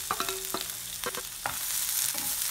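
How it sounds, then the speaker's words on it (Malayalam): Onions sautéing in coconut oil in a pan, a steady close sizzle broken by repeated spatula scrapes and clacks against the pan, with no voices. "ഇനി അതിലോട്ട് ഉള്ളിയെല്ലാം കൂടി ചേർത്തിട്ട് രണ്ട് മൂന്ന് മിനിറ്റ് ഒന്ന് വഴറ്റിയെടുക്കാം."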